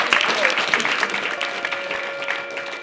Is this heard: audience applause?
yes